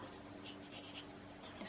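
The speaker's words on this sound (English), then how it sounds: "Just throw some pencil in here and then we'll smudge away." Graphite pencil scratching and rubbing across paper while shading a drawing, a soft continuous papery hiss with faint strokes, fairly quiet and steady throughout.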